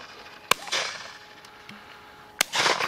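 Shotgun fired at a flying pheasant on a driven shoot, two sharp, loud reports a couple of seconds apart, each followed by a brief outdoor echo.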